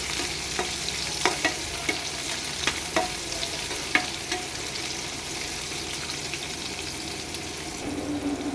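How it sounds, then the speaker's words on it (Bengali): Spiny gourd pieces fry in hot oil in a pan, a steady close sizzle broken by irregular scraping knocks of stirring, loudest in the first four seconds and continuing without talk. "লাল লাল করে কাঁকড়েলগুলো ভেজে নেব।"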